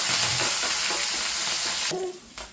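Garlic, ginger, red chili and curry leaves sizzle in hot oil for mango pickle, a close, steady frying hiss with stirring scrapes that cuts off abruptly near the end.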